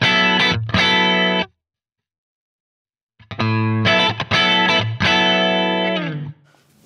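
Electric guitar through a Neural DSP Soldano SLO-100 amp plugin with compression, playing loud distorted chords in two bursts separated by a silent pause, ending with a ringing decay.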